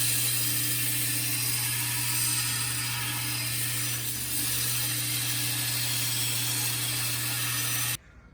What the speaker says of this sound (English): And then you can start grinding the bevel.